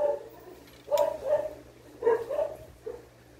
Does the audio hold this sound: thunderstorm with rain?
no